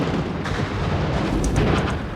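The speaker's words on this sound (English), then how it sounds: "a BBC television crew dived for cover as a cluster bomb went off" Cluster bomb bomblets packed with ball bearings burst in a dense, echoing barrage during the Battle of Grozny in the First Chechen War, a loud continuous rumble of overlapping blasts with no voices.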